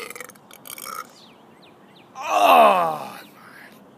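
One long, loud, groaning burp rises and fades over about a second, coming after quiet rustling and short bursts of breath.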